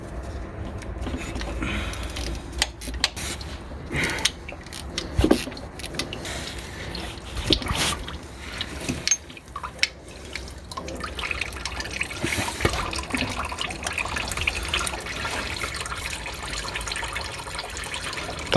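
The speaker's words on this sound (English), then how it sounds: "That noise is what's left in the water in the engine coming out." Leftover coolant water draining out of a Land Rover Freelander engine during a timing belt and water pump job, a steady trickling and dribbling flow with scattered drips, fairly close and continuous throughout.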